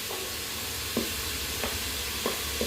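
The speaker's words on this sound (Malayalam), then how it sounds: "വലിയ ഉള്ളി പച്ചമുളക് അതുപോലെ ജിഞ്ചർ ഗാർലിക് പേസ്റ്റ് ഇത് മൂന്നും എല്ലാം കൂടെ നമുക്ക് ഒരുമിച്ച് ഉള്ളി ഇട്ട് കൊടുക്കാം" Onion, green chili and ginger-garlic paste fry in a pan for chana bhatura, a loud continuous sizzle with a few soft stirring scrapes at intervals and no voices.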